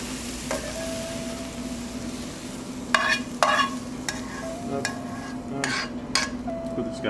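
Vegetables and shrimp searing in olive oil in a pan, with a steady close sizzle broken by several sharp clinks and scrapes of stirring, and no talking.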